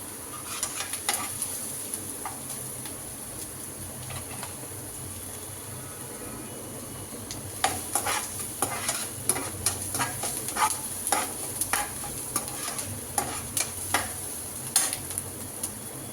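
Onions sizzling in a pan while being stirred for a simple pasta, with a steady fry that turns busier and more clattery as the spoon scrapes repeatedly toward the end.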